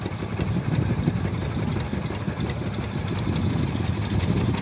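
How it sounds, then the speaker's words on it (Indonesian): A 24 HP Dompeng diesel boat engine runs steadily on a river crossing, a loud continuous low chugging drone with a fast regular pulse throughout, no talk. "Pakai mesinnya gini aja ya, 24 dompeng ya mesinnya."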